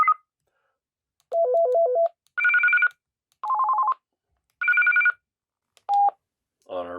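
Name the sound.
ringtone of BF-OG200 analog portable radio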